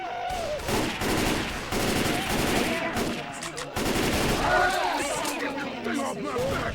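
Heavy automatic gunfire in a Left 4 Dead 2 finale on Xbox, dense overlapping bursts of shots, loud and close, mixed with voices talking over the chaos.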